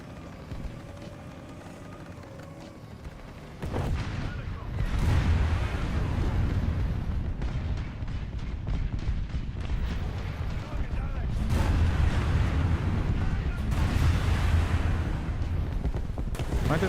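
Missiles strike and detonate in a video game, a dense, rumbling barrage of loud blasts that swells after a quieter opening and keeps pounding in overlapping waves, with voices mixed in.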